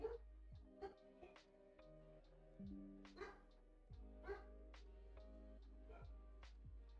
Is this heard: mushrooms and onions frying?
no